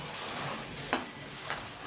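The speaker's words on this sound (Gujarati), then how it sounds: "વઘાર એટલો સરસ આવ્યો છે ને સેજને ફ્રાય કરીશ" Soft, steady sizzle of a spice tempering in hot oil for a chili relish, with a couple of light utensil clicks; quiet and close, no talking.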